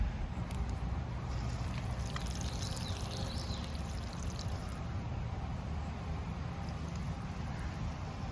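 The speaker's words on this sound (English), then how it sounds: "I'm just gonna do a quick open and close, and I heard water flowing as I did that" Water flowing through a spring box siphon valve as it is briefly opened and closed, a steady soft rushing pour that holds evenly throughout, outdoors with no speech.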